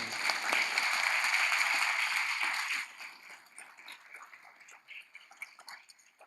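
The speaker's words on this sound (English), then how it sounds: "Let's give Pia a round of applause, everyone." Audience applause after a presentation at an economic outlook event, a steady crowd clapping for about three seconds that then thins to scattered faint claps.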